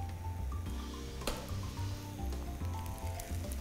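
Four arepas in a frying pan with only a thin thread of oil, giving a steady, close sizzle with small crackles throughout.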